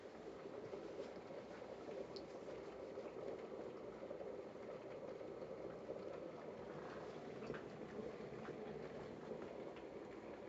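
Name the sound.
kettle of water bubbling as it boils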